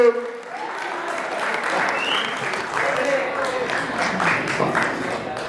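Crowd applause at the Basant Panchami fair at Kanvashram, Uttarakhand, steady clapping of moderate loudness with voices audible underneath.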